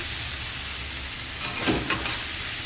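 Dried chili, nigella seeds, bay leaf and crushed garlic sizzle in hot oil, making a steady close hiss with a few brief louder crackles partway through and no voices.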